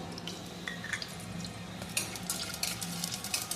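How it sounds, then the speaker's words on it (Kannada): Raisins and cashews frying in hot ghee in a pan for rice kheer, a soft steady sizzle with occasional faint crackles and small clinks near the close, no voices. "ತುಪ್ಪ ಬಿಸಿ ಆಯಿತು, ಅದಕ್ಕೆ ದ್ರಾಕ್ಷಿ ಹಾಕ್ಕೊಳ್ತಾ ಇದ್ದೀನಿ. ಹಾಗೆ ಗೋಡಂಬಿನೂ ಹಾಕ್ಕೊಂಡಿದ್ದೀನಿ."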